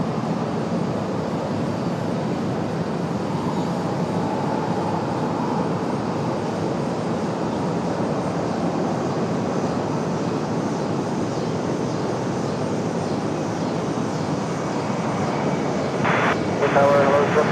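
An American Airlines A321 jet taking off at Raleigh-Durham International Airport, a steady, loud engine roar that holds throughout, with a brief radio or voice sound near the end.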